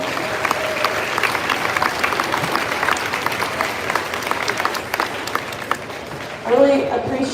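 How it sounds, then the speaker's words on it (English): An audience at a 7th grade band Halloween concert applauds the chaperoning parents, a steady wash of many hands clapping with crowd noise and voices throughout, then a brief louder burst near the end. "please stand up and we'll applaud for you."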